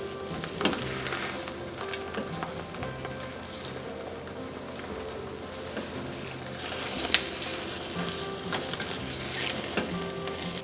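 Egg mixture for tamagoyaki sizzles and crackles in a hot pan, a continuous close frying hiss with small scraping and tapping touches throughout.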